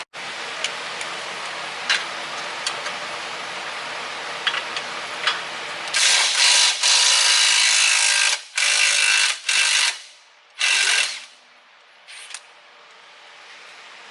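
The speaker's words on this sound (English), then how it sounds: "Impact gun makes everything so much easier." A pneumatic impact gun removes rear shock bolts from a Jeep JK. Several loud, close bursts of harsh whirring and rattling hammer come in quick succession midway through, after a quieter stretch.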